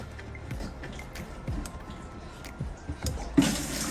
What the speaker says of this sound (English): When I want to drain the water, it's leaking a little right now.